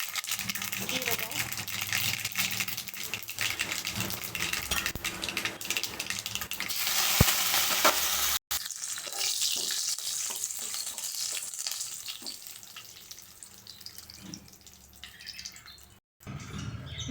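Mustard seeds and cumin tempering in hot oil for a Bangalore-style siru keerai paruppu kulambu, a steady loud sizzle and crackle that runs throughout with a voice talking over it.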